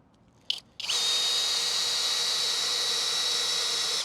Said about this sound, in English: drive it down so just the threading is below the timber and so it's not protruding out the bottom